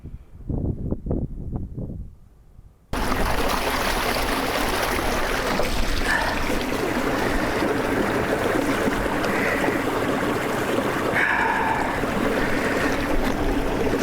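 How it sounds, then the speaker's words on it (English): Water rushing steadily in Fairbrook, a small moorland brook near Fairbrook Naze, heard up close as a continuous broad wash after a few seconds of muffled knocks and handling at the start. "It's a lovely little brook, this Fairbrook"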